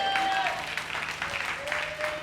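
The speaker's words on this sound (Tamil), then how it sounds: "கைதட்டுங்க பார்க்கலாம்." A church congregation claps during a Sunday service, a brief dense burst of hand claps mixed with tonal background sound and crowd noise.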